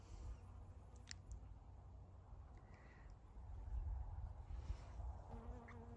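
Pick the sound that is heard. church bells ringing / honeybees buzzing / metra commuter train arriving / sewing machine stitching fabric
honeybees buzzing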